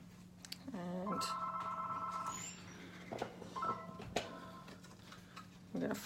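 A telephone rings in the background during a live box-folding session: two short electronic trill bursts, the second fainter, over a steady hum with light handling taps.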